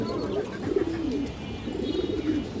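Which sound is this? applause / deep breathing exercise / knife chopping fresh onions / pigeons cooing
pigeons cooing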